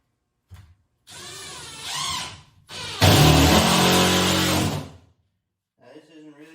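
A cordless drill drives screws into drywall on a wall being finished, with several loud whirring bursts that rise and cut off, the longest near the end, between short quiet gaps.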